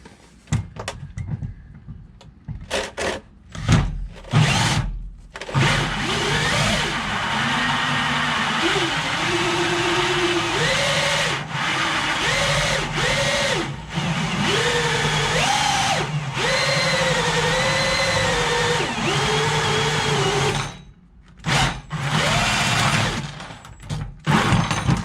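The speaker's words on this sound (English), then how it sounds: "I'm just gonna take the hole saw here. We're gonna drill this through" A hole saw grinds through a diesel fuel bowl on a 5.9 Cummins engine, a steady loud whine that rises and falls in pitch as it bites, preceded and followed by clicks and knocks of handling.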